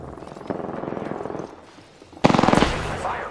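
Rapid automatic gunfire in the shooter game Apex Legends comes as two loud, close bursts of evenly spaced shots, the second sharper and brighter after a short pause.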